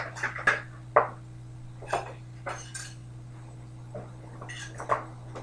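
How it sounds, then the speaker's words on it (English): Batter for pancakes being stirred with a whisk in a bowl, heard as a few soft, irregular scrapes and light clinks against the bowl over a steady low hum, with no talking. "Now you got to stir it with the whisker"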